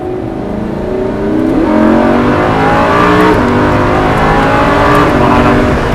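A Lamborghini Huracán supercar engine revs hard and close up, its tone climbing through several rising sweeps over six seconds with no talking.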